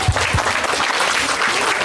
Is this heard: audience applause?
yes